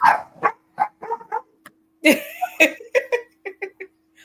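Several dogs bark in a quick, irregular string of sharp, fairly loud barks and yips, close by, with a steady faint hum underneath.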